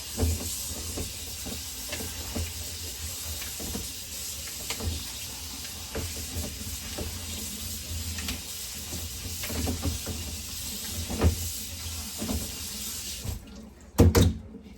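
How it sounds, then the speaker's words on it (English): Fresh strawberries rinsed under a cold kitchen tap, a steady hissing stream of water splashing into the sink with small clatters of fruit and handling, ending in a few louder knocks as the water shuts off. "then with cold water, I'm just going to rinse these off."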